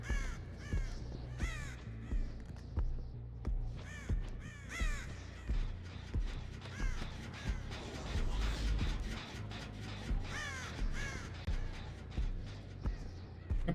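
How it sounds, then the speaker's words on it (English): Birds cawing in the Dead by Daylight video game, a loud, repeated series of harsh crow-like caws in bursts over low rumbling game ambience. "The pigeons are mad at me."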